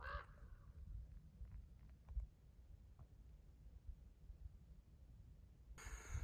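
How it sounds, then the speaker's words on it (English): A raven flies overhead near a desert ridgeline of petroglyphs, giving a few faint, distant croaking caws against quiet wind and outdoor background. "Here's a raven flying over."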